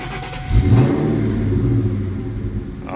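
A 1999 Ford Mustang Cobra engine, close and loud, blips into a quick rev that then settles back down to a steady idle with no hang, no talking.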